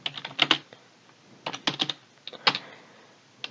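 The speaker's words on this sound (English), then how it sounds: "So let me just type it here." Sharp keyboard clicks come in several short, uneven clusters separated by quiet gaps as a command is typed on a Windows Vista computer, close and distinct.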